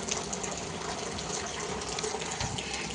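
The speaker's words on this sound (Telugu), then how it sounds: "చూసారా ఎలా నీళ్లు పడుతున్నాయి" Heavy rain pouring down in Bengaluru, a dense continuous rush of falling water that stays steady and fairly close throughout, with no voices.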